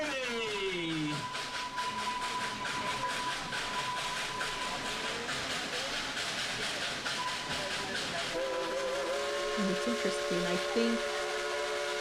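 Dollywood's steam locomotive, engine 192 Klondike Katie, sounds a long steady whistle over hissing steam and rolling train noise, with a person briefly talking partway through.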